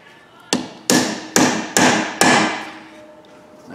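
Hammer blows staking an axle nut during a rear wheel bearing repair on a Honda CR-V: five sharp, loud metallic strikes about half a second apart, each with a short ringing decay.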